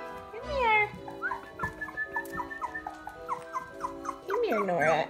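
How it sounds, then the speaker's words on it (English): Puppies whimper and whine in a rapid run of high, wavering cries, close by, with an excited voice murmuring at the start and end. "Come here, puppies. Come here."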